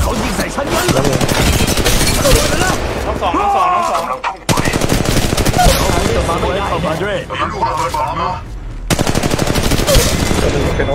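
Rapid automatic gunfire from Apex Legends Mobile rattles in long bursts, broken by brief pauses, with a player talking over the shooting.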